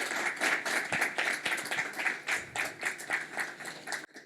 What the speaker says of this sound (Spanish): los invito a dar un aplauso para iniciar esta jornada